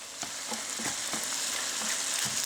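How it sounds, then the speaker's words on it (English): Butter sizzles in a pan beside simmering pasta sauce, a steady close crackle with small repeated pops and spits, alone with no one talking. "We got the butter going."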